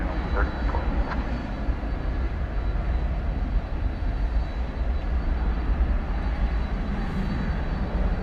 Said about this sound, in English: So we've got two UPS 767s, which will be departing presently.